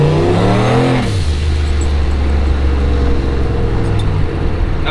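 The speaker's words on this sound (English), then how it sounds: "The engine definitely sounds quieter now" A turbocharged Chevrolet S10 truck engine idles with a steady low rumble that changes pitch at the start, then runs evenly and loudly throughout.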